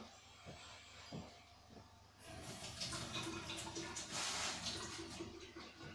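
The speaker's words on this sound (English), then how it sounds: "I'll just quickly cool this in some water." Faint clinks and water splashes, then a sudden steady hiss and sizzle as a freshly poured zinc and copper ingot is dunked in water, bubbling and steaming for several seconds.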